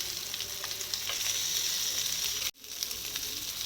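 Fish fries in butter in a pan with a constant, bright, close sizzle and crackle, a brief interruption partway through, then the steady sizzling resumes, with no talk.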